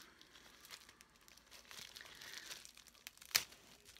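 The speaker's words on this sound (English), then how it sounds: "So, they put them in this little bubble wrap." Bubble wrap packaging holding earrings handled close up, a soft, continuous crinkling and rustling with one sharper crackle near the end, quiet and with no talk.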